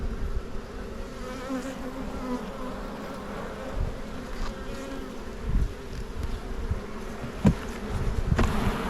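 Honey bees buzzing around an open hive during an inspection in Australia, a continuous close droning hum with individual bees passing near, plus occasional light knocks and handling noises.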